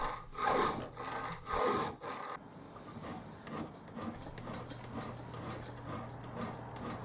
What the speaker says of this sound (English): I used the triangular and the flat files to flatten out the rest of the metal to match them